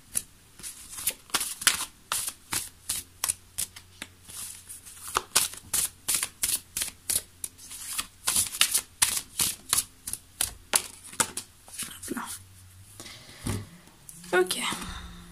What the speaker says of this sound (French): on va encore sortir la carte de conclusion